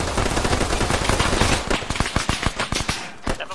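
Gunfire in the video game Arma 3: loud sustained automatic fire that breaks into separate sharp shots and short bursts, with uneven spacing near the end.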